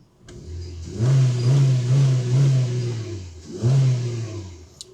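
A 2021 Honda Civic 1.8 E's naturally aspirated 1.8-litre engine, rev-limited at 4,000 rpm, revs up in three smooth pulls, each climbing to a steady high pitch then easing back, loud and close with no voices.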